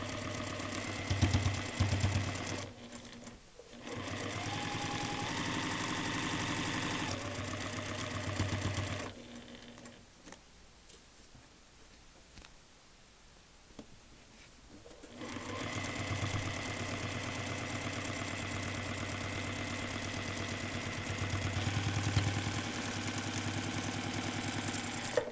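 A sewing machine stitching a paper pieced quilt seam whirs steadily at close range, pauses for several seconds of near quiet, then resumes a long continuous run of stitching, with no talking.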